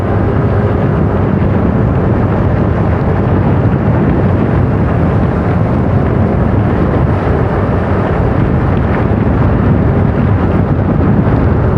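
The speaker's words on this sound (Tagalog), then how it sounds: "lakas ng hangin" Strong typhoon wind roars and buffets the microphone continuously on a city road, a loud, unbroken rumble with no talking.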